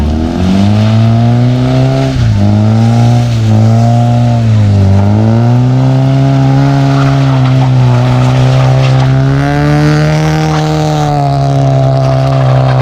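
A lowered car drives up a mountain road in Atok, Benguet, its engine droning loud and close with rising and falling revs and shifting pitch throughout.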